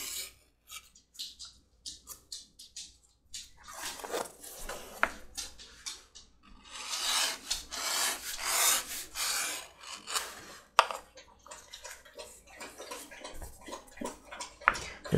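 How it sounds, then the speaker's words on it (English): Edge beveling tool rasping and scraping along the top rim of a handmade leather jack mug, a sturdy historic drinking vessel; close, dry rubbing strokes in uneven bursts, quiet at first and then steady and busier. "I do want to do a little bit of edge beveling. Just right around this top,"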